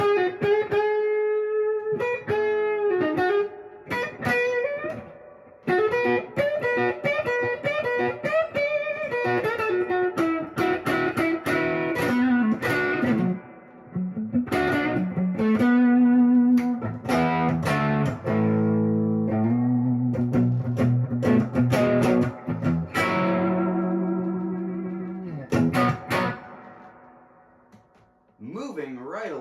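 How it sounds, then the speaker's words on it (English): Blues guitar tone from a 1957 Gibson ES-175 hollowbody played through a Positive Grid Spark amp, a continuous run of picked single-note lines and chords with sustained notes, steady and fairly loud, playing alone throughout. "We're going to be using my 1957 Gibson ES-175."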